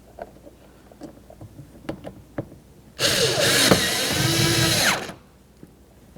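A power screwdriver whirs for about two seconds, tightening a Phillips screw on a 2003-2007 Honda Accord front exterior door handle, loud and close after faint clicks and handling noises.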